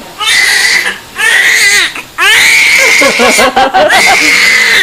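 A newborn girl, just delivered, cries and screams in loud, close, wailing bursts with short gasping pauses and choppy sobs.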